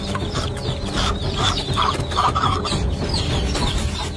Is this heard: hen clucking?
yes